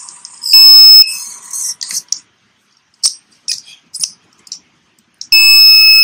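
A pedestrian crossing system's electronic buzzer beeps loudly at the start and again at the end, with scattered short chirps and clicks in the quiet between.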